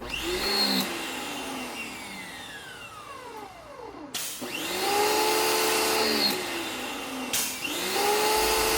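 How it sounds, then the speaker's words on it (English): A portable electric pressure washer running loud and close, its motor whining and rising in pitch, cutting out briefly and then surging back several times. "Hook the garden hose up, hook the pressure washer hose up, fire it up."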